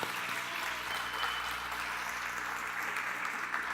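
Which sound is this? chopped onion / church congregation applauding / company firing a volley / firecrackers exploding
church congregation applauding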